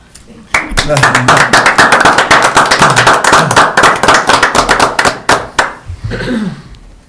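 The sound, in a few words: round of applause at a board meeting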